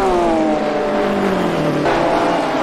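A 1969 Porsche race car in a GT Series race at Virginia International Raceway, its engine droning steadily at high revs, the pitch sliding slightly downward as it runs along the track, loud and unbroken.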